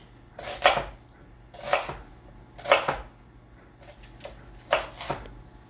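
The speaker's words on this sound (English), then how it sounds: "we're just gonna chop up some onion" An onion being chopped with a knife for lentil sloppy joes: four separate bursts of quick blade strikes on a cutting board, close and moderately loud, with short pauses between them and no talking.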